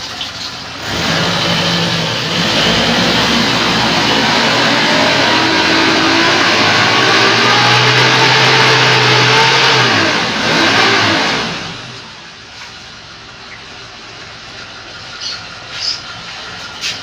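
Suzuki Katana engine running with the radiator being drained, a loud steady idle with a revving swell that drops away abruptly near the end, leaving quieter background sounds.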